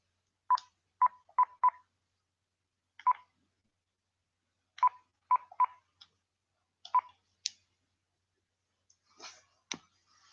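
A phone dialing a number, sharp tone beeps in short groups with pauses between, clean and isolated, followed by a few faint clicks near the end.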